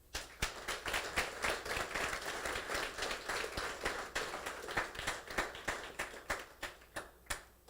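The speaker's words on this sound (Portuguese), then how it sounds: "Vamos aplaudir o Senhor?" A church congregation claps during a sermon: a continuous spread of applause that settles into sharp, regularly spaced claps near the end.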